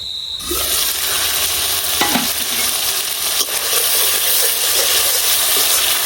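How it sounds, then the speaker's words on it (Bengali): Ground mustard and cumin spice paste sautés in a hot pan with a loud, continuous close sizzle, broken by occasional spatula scrapes and clinks against the pan. "এখন ডাইকে মশলাটা একটু কষাই নিলাম"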